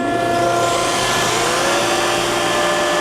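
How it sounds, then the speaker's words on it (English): A belt grinding machine with a 2.5-inch wide belt runs its spindle at full speed, a loud, steady whine with a dense whirring roar and rising tonal overtones, close and continuous. "I'll turn the grinding spindle on just for a moment"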